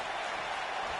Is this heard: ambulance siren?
no